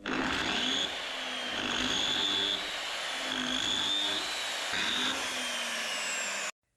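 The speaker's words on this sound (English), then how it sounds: "On the first cut, the drill's motor gave in." A magnetic drill cuts into a bulldozer blade, a loud whining motor with a high metallic squeal that rises and falls in repeated passes, close and alone, then stops abruptly.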